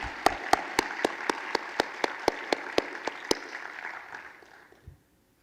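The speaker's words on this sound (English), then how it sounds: "one more round of applause for our commissioners and for all the volunteers" A room full of people applauding steadily, with sharp individual claps standing out, the applause thinning and fading away near the end.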